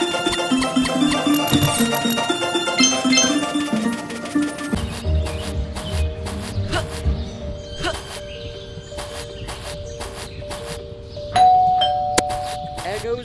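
A doorbell chimes in a house in the video game Scary Teacher, its ringing tones cutting through game music, and a voice talks partway through.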